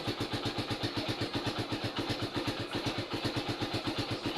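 A Suzuki Raider 150 carbureted motorcycle engine idles steadily up close, its firing pulses forming an even, rapid putter that runs alone throughout with no change in pace.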